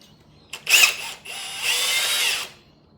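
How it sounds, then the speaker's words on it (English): A power drill bores holes in the cowl panel of an HQ GTS coupe in two bursts, a short whine followed by a longer steady one, loud and close against a quiet background. "So right now I will drill these holes"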